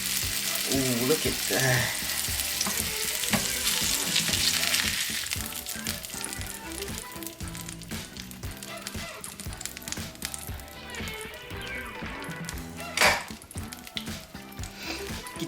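Salmon fillets sear in a hot pan after being flipped, a steady loud sizzle with clattering spatula scrapes, easing slightly after the first few seconds, while a voice speaks briefly over it.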